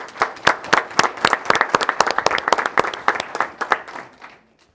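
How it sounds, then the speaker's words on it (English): School board meeting audience clapping for students' supporters, a modest group of distinct sharp claps in irregular rhythm, close and clear, stopping abruptly near the end. "let's also give those special people in their lives a round of applause as well"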